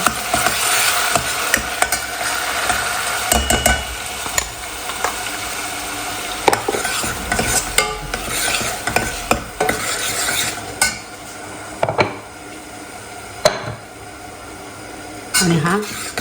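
Masala is stirred and sautéed in hot oil in a pot while cooking mutton, with a steady sizzle under repeated scraping strokes of a spoon against the pot, and occasional sharper metallic clinks.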